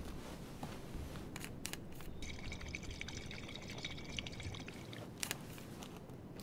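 Water bottles being filled in Life is Strange 2, a steady, quiet trickling pour that runs for several seconds, with a few faint clicks and knocks over soft background ambience.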